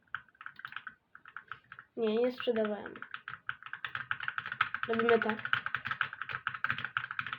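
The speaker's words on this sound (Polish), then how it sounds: "Sorry za dźwięki w klawiaturze," A loud computer keyboard clatters nearby as someone types in quick, irregular runs of clicks, briefly interrupted by someone speaking before the typing resumes, continuing steadily.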